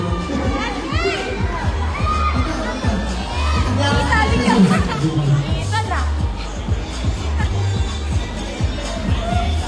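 Dense crowd noise at a live mall tour event for the show A Werewolf Boy, with children shouting and a lively babble of many voices filling the space at steady loudness, rising briefly midway.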